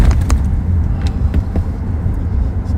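Freeway traffic passing beneath an overpass, a steady low rumble of vehicles with faint intermittent clicks and knocks nearby, fairly loud and continuous.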